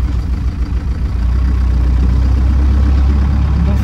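A Land Rover Lightweight with a 200Tdi diesel engine and a new clutch runs at a steady, loud, low rumble. Soundproofing sits under the bonnet, and the engine note carries on without pause.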